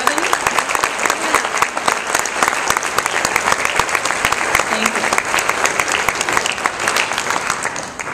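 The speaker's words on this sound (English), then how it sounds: "all teachers should stand up and get applause" Sustained audience applause for music teachers at a youth symphony orchestra concert, dense steady clapping from a sizeable crowd running the whole time at even loudness, with no talk over it.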